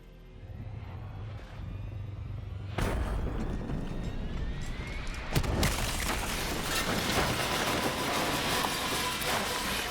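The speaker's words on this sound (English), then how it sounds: "the undead have a thing for giant explosions" Two sudden booming blasts, the second louder, followed by a sustained crackling roar and rumbling debris, from the video game Call of Duty: Black Ops III, Nightmares mode.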